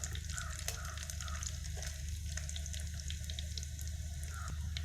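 Steady, quiet sizzling of shallots frying in oil with fenugreek seeds, a constant crackle with occasional small pops and no voices.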